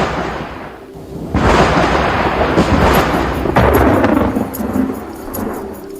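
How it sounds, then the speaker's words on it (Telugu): Thunder at an outdoor Christian blessing festival in Eluru in 2008, heard as a loud, sustained rolling rumble that swells and carries on for several seconds, with no voices over it. "పైకి చూస్తున్నాడు ఉరుముతుందని"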